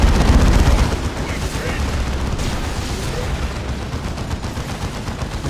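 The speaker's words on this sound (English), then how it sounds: "Now maybe time for a creeping napalm barrage." Explosions and gunfire from a creeping napalm barrage in the Dawn of War 2 video game, a dense, loud rumbling roar heaviest at the start and then sustained as a crackling wash.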